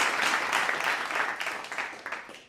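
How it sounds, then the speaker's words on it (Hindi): An audience claps at a Hindi poetry recital at a kavi sammelan, a dense, steady burst of applause that tapers slightly toward the end. "तालियां दे दीजिए थोड़ी सी।"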